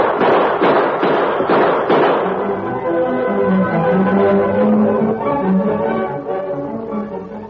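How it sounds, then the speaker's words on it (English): Gunshots in a western radio drama: a quick series of loud sharp bangs up front, then lingering rumbling echoes and a low musical swell underneath. "Gun him down, Tar!"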